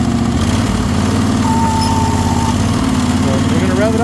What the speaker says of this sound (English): So we're gonna rev it up and drive it around front.